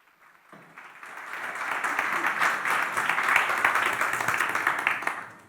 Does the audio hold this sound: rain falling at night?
no